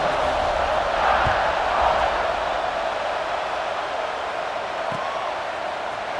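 Stadium crowd in EA Sports College Football 26 fills the air with a steady, loud roar of cheering and murmur before kickoff, holding at an even level throughout with no distinct voices.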